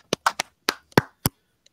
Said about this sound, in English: Clap it up for the captain.